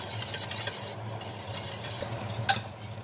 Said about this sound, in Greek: Το βάζω πάλι στο μάτι της κουζίνας και ανακατεύουμε συνέχεια.